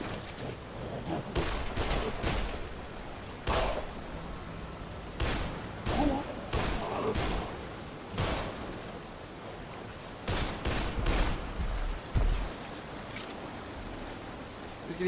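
Gunfire from Dead Island Riptide during a long fight against a charging Ram boss, heard as sharp shots in scattered bursts and doubled volleys over a steady game noise bed, with a player talking.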